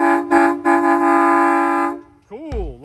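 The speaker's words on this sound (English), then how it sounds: "Oh, we got a train horn." A train horn at the site of a Norfolk Southern derailment blares loudly and close, two short blasts then one long sustained tone, followed by a voice speaking.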